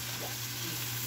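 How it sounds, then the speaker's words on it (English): Shrimp and noodles frying in a pan while being stirred give off a steady, even sizzle with a low hum underneath, continuous and unbroken. "He's stirring it round and round"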